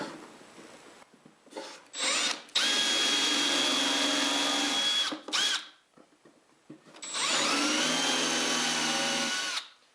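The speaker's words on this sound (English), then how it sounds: "I can go ahead and install a couple screws to help keep these backboards flat" A drill drives screws into pine backboards in two long whining bursts with short starts and pauses between them, close and loud against a quiet workshop.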